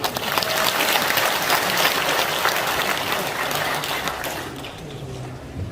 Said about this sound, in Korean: 이런 큰 박수 맞으십시오